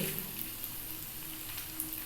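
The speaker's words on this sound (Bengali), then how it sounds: "এটা ভাজা হোক মচমচে হয়ে যাবে" A Maggi roll fries in a pan toward crispness, giving a faint, even sizzle with soft crackling throughout and no voices.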